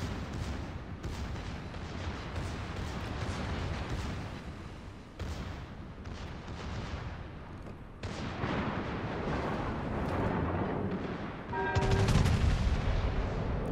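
Heavy naval gunfire from the German battleship Bismarck in World of Warships, a series of deep booming salvos and rumbling blasts rolling one after another, with a bigger, louder volley near the end.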